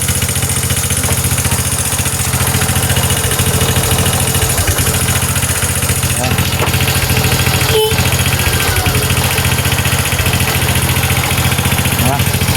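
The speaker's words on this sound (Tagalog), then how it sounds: "umandar na nga siya kaso parang kuliglig" A Rider RS 125 Fi motorcycle runs at a steady idle with a mechanical fault that sets off a persistent, high, cricket-like chirring ticking over the engine drone, loud and close throughout, with someone talking now and then.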